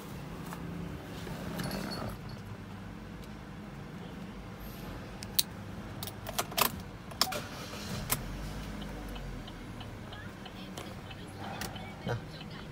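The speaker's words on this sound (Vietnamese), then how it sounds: "sẽ nổ máy để cho chị và các bạn nghe tiếng động cơ" A 2010 Chevrolet Cruze LTZ with a 1.6 automatic starts up and settles into a low, steady idle, with a few sharp clicks and knocks around it and someone talking over the engine.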